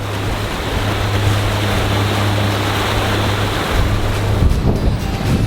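A sailboat motoring at about 8.5 knots on its 57 horsepower engine churns a heavy wake, giving a loud, steady rush of water and wind over a low engine drone, with no voices.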